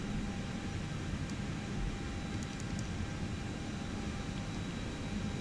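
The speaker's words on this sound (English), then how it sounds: "This is very much a noisy plane." An Airbus A340-600 in X-Plane 12 gives off a steady, even engine roar with a faint whine, constant and unchanging from start to finish, with a few tiny clicks high above it.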